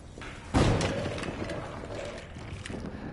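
A petrol bomb thrown in the horror game Amnesia: The Bunker bursts with a sudden heavy thud and whoosh, then a rumbling, crackling burn that lingers and slowly fades.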